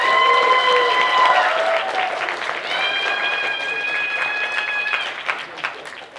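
Convention audience applauding and cheering throughout a fan panel for pony show writers, dense and loud crowd clapping with whoops layered over it, fading toward the end.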